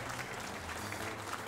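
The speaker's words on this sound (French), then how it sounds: "Donc sous vos applaudissements, j'appelle" Audience applause at a cooking-show certificate ceremony, a dense, even patter of many hands clapping at once that holds steady and fairly distant for a brief moment with no voices.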